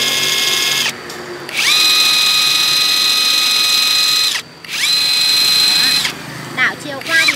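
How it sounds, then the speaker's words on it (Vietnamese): An ASUKE electric bolt drill with a large hammer runs under power in two long steady whining bursts separated by brief stops, loud and close, with small mechanical clicks at the end. "Để em sẽ cho máy chạy để cho các bác được cùng tham khảo về tốc độ vòng quay luôn này."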